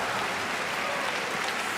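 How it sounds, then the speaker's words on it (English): Audience applause fills the hall at a Thomas and Uber Cup 2016 badminton match, a steady dense wash of clapping that holds evenly through the short stretch with no voices over it. "Generous applause for another terrifically watchable rally."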